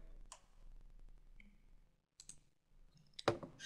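A computer mouse clicked during a Flash CS4 animation tutorial, a few faint sharp clicks including a quick pair near the end, in a quiet room.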